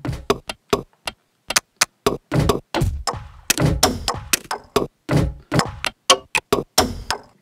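A Eurorack sample is triggered through a Make Noise LXD, giving a sequence of short, punchy, knocking percussive hits in an irregular rhythm. The hits are dry and close, with brief gaps between them.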